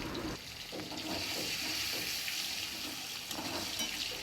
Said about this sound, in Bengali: এবার ওই তেলেই কিছুটা কালো জেরে ফোড়ন দিয়ে টমেটো কুচিটা দিয়ে দিলাম এবার হালকা করে নাড়তে থাকলাম